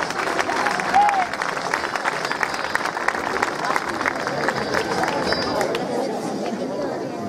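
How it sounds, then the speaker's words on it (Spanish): An audience at a fashion show of 1980s wedding outfits claps, with steady applause under crowd chatter and murmuring voices throughout. "Un fuerte aplauso para ambos."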